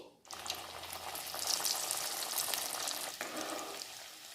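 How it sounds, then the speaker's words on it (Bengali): Mung dal pakan pitha frying in hot oil, a continuous dense crackling sizzle that swells after a quiet start, close and steady, with a brief clatter near the end and no talk. "আমি বাকি পিঠেগুলো ভেজে নিচ্ছি"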